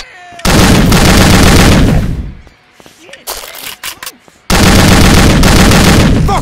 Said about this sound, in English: stop shooting! Stop shooting!